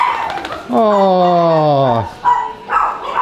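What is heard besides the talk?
dogs barking in the dog house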